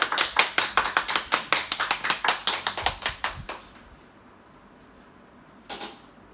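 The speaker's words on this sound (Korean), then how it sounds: "우리 함께 박수하겠습니다" A church congregation claps in a steady unison rhythm for its mothers, about sixteen crisp beats that stop abruptly, leaving quiet room tone and one later soft knock.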